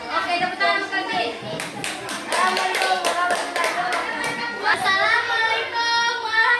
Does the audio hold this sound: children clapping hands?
yes